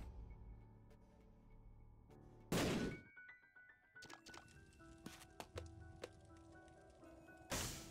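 A bomb blast in The Binding of Isaac: Rebirth, two sudden loud bursts of noise rising out of quiet game effects and scattered thunks, the second cut off at the end, with no speech.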